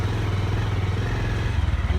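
A vehicle engine labouring up a steep winding mountain road, a steady loud throbbing drone with a rhythmic pulse and rattling, close by throughout.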